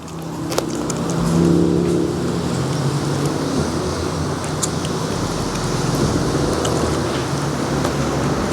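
A Subaru truck backs up slowly, its engine a steady low rumble that swells briefly near the start and then holds even, with wind noise over it and no talking.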